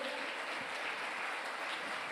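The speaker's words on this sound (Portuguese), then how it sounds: "levanta um forte aplauso ao Senhor." A church congregation applauds in a dense, steady wash of clapping that stays even throughout, with no single claps standing out.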